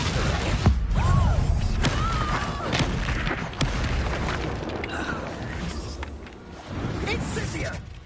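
Confringo fire spells going off in the Hogwarts Legacy video game, with repeated booming blasts over a loud, dense layer of game sound, and a voice calling out spells.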